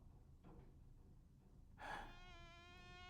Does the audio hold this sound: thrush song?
no